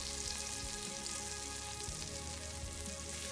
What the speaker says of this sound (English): and then safely dunk it into the hot oil.